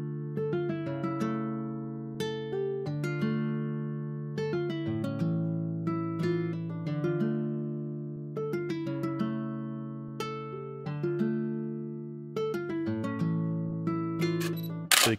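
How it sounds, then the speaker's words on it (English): A programmed Spanish guitar melody built in FL Studio plays plucked, smoothly extended notes in a flowing, repeating pattern over low sustained bass tones, steady and clear with no talking. "And now the guitar sounds like this."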